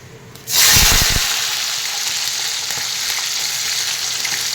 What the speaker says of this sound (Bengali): এবার আমি দিয়ে দেব টমেটো কুচি।